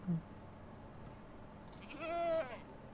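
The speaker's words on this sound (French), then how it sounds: "on dirait des chèvres" Minecraft goats bleating: a single wavering bleat rises clearly out of quiet background ambience near the end, with a brief soft sound at the start.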